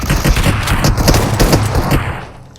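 Rapid bursts of automatic gunfire in a video game fill the whole stretch, dense overlapping shots at close range, easing off near the end.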